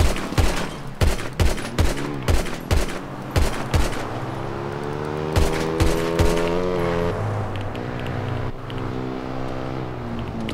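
Gunfire exchange in an online video game, a rapid series of loud, sharply spaced shots followed by a vehicle engine revving and whining, with more scattered shots later.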